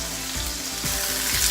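Meatballs brown in a frying pan, giving a steady, close sizzle with a continuous crackling hiss and no talking over it.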